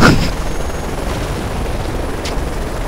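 A helicopter in the video game Call of Duty: Modern Warfare 3 drones steadily with a loud, rough rotor rumble, opened by a short burst of noise.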